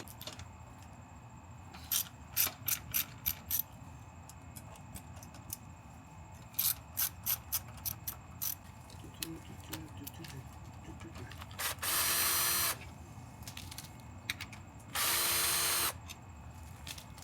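Hand ratchet and tools working on the peg mount bolts of a Yamaha R3 motorcycle, heard as short bursts of rapid ratcheting clicks repeated in clusters, with two longer harsh whirring bursts, fairly close in a quiet workshop.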